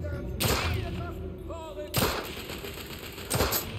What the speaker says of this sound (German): Unter starkem Beschuss!